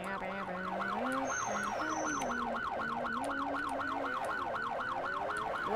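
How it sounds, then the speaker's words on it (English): A police car siren in the Roblox video game wails continuously in a fast rising-and-falling yelp pattern, steady and prominent throughout with a faint low tone beneath. "I just have my sirens on."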